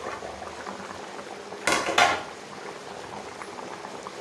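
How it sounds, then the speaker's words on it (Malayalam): Chicken and jackfruit curry bubbles steadily in a pot, with a brief clatter of a metal lid being lifted partway through. "ചിക്കൻ കറി തിളച്ച്"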